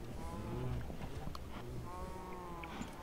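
Minecraft cows on a game server, giving faint low mooing calls over a muddy background, with a voice faintly murmuring underneath.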